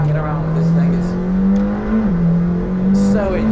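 A McLaren Senna sports car accelerates hard up close, its engine note climbing steadily, then dips sharply at a quick gearshift before rising again, with a brief tire noise near the end.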